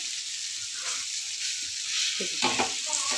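Fish pieces fry in a pan with a constant, hissing sizzle. Soft scrapes and a few louder clatters mark the pieces being turned over near the end.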